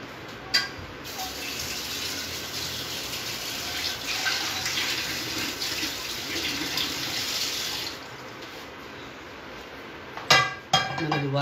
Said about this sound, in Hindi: दोबारा से पैन धो लिया